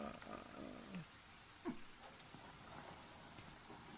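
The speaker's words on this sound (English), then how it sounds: "This is the first time I've seen rain in the game as well." Soft, steady hiss of rain falling in the Aniimo video game, faint and continuous with a few brief thuds and clicks of game sounds on top.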